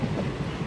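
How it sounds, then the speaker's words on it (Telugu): A train rolling toward Pamban Bridge near Mandapam makes a steady, faint rumble of wheels and carriages, heard from on board for under a second. "మన ట్రైన్ ఒక చిన్న సర్కిల్ అయితే కొట్టబోతుంది"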